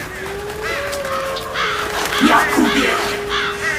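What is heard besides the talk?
crows cawing in a radio drama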